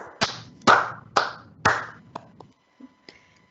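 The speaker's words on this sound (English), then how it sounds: "A big round of applause for the authors of these books." Scattered handclaps from a small audience at a university research forum, four sharp claps in quick succession followed by a few fainter, sparser ones trailing off into quiet.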